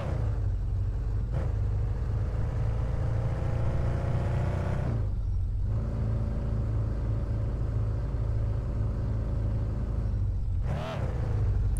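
A loud BMW 3 Series engine in a car game drones steadily at high revs, with brief gear-shift dips and rises interrupting the sustained roar; near and continuous with no talk.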